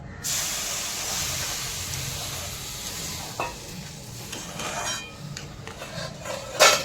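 Water poured into a hot pan of roasted semolina and vegetables sets off a steady hissing sizzle and spray, with a few sharp utensil clinks near the middle and a louder clatter close to the end.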